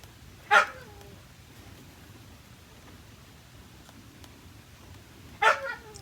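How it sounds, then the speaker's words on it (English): Two short barks from a dog some distance away, spaced several seconds apart over a quiet background. "Now Layla's barking outside."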